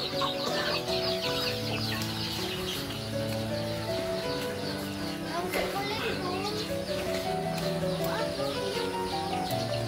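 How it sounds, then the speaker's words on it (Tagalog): A pet fighting rooster clucks and crows amid a busy background of children playing and other birds, with steady layered calls throughout. "Alagang patok manok ng tatay ko."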